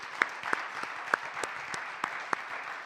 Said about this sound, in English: let's give a round of applause for our wonderful speakers